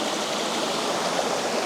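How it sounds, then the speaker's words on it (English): Small rapids and little falls at Secret Falls near Sombrio Beach on Vancouver Island pour in a dense, steady roar, close and loud, with no voices over it. "It looks amazing with these little bitty rapids, little bitty falls that are right here in the foreground."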